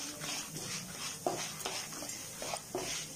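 Spices, chili powder and peanuts roast in a pan for an onion-free, tomato-free chutney, with quiet, repeated scraping stirs at an uneven rhythm over a faint background.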